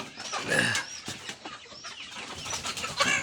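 Tiger breed chickens cluck and call repeatedly at close range, a busy run of overlapping bird sounds with no talk.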